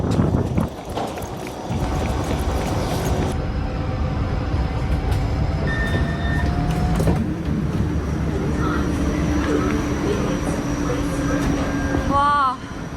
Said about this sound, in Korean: 마침 열차가 나를 기다리고 있어